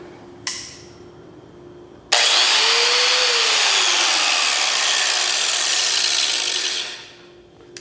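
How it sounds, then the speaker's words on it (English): An angle grinder, a power tool being used to grind an iPhone 6, starts abruptly after a short knock and runs loud and steady for about five seconds with a whining pitch that dips under load, then spins down. "This is a angle grinder."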